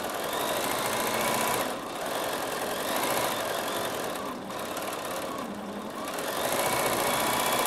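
A Bernina sewing machine stitching with its stitch regulator engaged gives a steady, close motor whir with a fast rapid needle chatter, holding almost continuously with only brief dips in speed.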